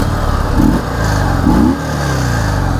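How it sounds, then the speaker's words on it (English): A 2020 Harley-Davidson Sport Glide motorcycle engine idles loudly up close and is blipped twice, each rev rising and falling in a deep, throaty grunt before it settles back to a steady idle. "I'll give it a few revs so you can hear the bike"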